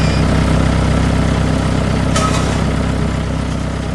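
A red tractor's engine idles steadily in an animated farm scene, a loud, constant low rumble with a brief higher whine partway through.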